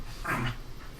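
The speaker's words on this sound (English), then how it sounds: "Excuse my dogs." Pet dogs give a brief, soft whimper with light panting close by, a faint short burst indoors.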